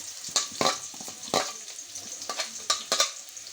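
Carrots and vegetables with curry leaves frying in a pan for vegetable biryani, soft sizzling broken by repeated sharp scraping stirs of a spatula, close and moderately loud with no voices.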